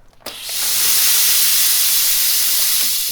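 A Salamandres Blackstorm SP06 garment steamer gives a sharp click, then releases a powerful, steady jet of steam that roars into a loud, sustained hiss, close up and alone.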